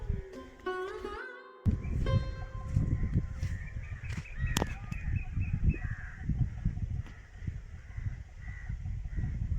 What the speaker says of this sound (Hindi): शायद कौवे कुछ वहाँ पर देखे होंगे, जा रहे होंगे खाने के लिए